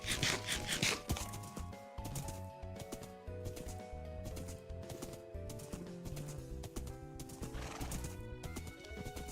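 In Minecraft, a horse whinnies loudly at the start, then its hooves clop in a steady rhythmic gallop over game background music.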